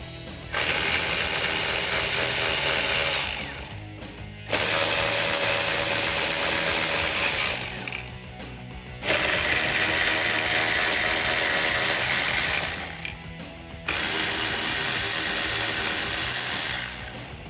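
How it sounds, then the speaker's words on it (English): Four 7mm bolts being undone on the radio panel of a 2010-2014 Ford Mustang coupe, heard as three long bursts of close, steady mechanical whirring, each with a short pause between. "This is held in by 4 7mm bolts. We'll go ahead, undo those bolts, and then pull this out."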